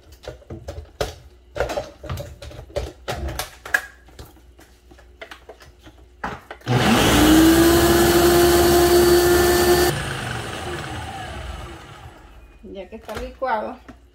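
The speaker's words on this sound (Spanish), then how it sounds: "Lo vamos a licuar." A kitchen blender whirs loudly for about three seconds, liquefying pork broth with garlic cloves and chiles de árbol for pozole, starting abruptly and easing down, with talk before and after.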